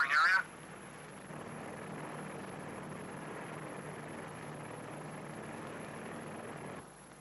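A P-2V patrol aircraft flies over a nuclear test area, giving a steady, droning engine hum that holds level for several seconds after a brief louder burst at the start, then cuts off near the end.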